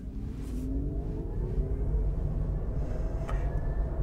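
Small 2020 VW e-up electric car with 83 PS accelerating hard from a stop, heard from inside as a rising electric whine climbs steadily in pitch over road and tire rumble, with no talking.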